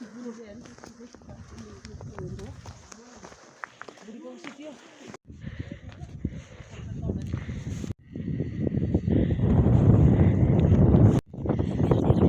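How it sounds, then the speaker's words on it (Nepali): Cold wind blows across a mountainside at Kalinchok, rising to a strong, steady roar of gusts against the microphone in the second half, with people talking over the quieter opening. "कस्तो चिसो हावा चलेको"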